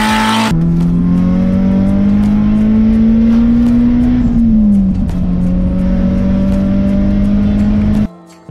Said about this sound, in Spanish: les vengo a presentar mi proyecto Toyota Celica 2003